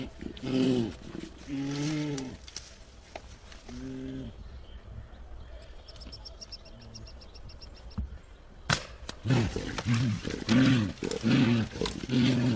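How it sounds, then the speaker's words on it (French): A bear caught in a poachers' steel jaw trap gives out loud, repeated bellowing roars in bursts, with a quieter stretch in the middle before the roaring resumes strongly; no speech. "Cet ours vient de marcher sur une mâchoire posée par des braconniers."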